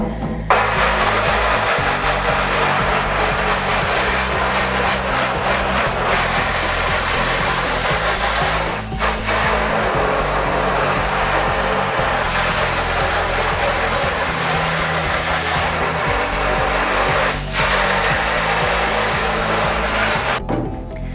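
Steady, loud hiss of a water spray washing out a freshly exposed silkscreen stencil to clear the image, running continuously for about twenty seconds with only brief dips.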